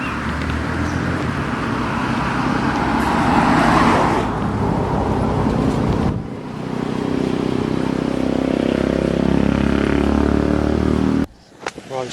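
Cars and other motor vehicles pass steadily along a road, a loud, continuous traffic roar with swelling passes and a lower rumbling vehicle in the second half, close by, ending in a sudden drop.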